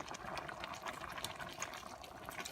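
Water pours into a pot of simmering pork sinigang, a steady close trickle and splash lasting a few seconds with no talk.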